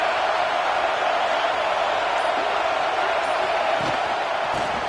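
Football stadium crowd roars as a dense, continuous wash of many voices, loud and steady throughout with no breaks or distinct cheers standing out.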